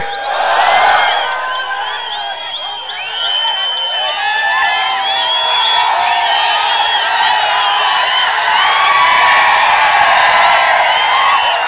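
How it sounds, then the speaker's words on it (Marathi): A large crowd at an Uddhav Thackeray election rally in Dharashiv cheers and shouts continuously, a dense roar of many voices with whoops rising throughout. "नुसता जल्लोष नकोय"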